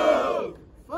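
Audience at a Coliseu rap battle erupts for a rapper, a loud burst of crowd cheering and shouting that swells at once and then fades over about a second.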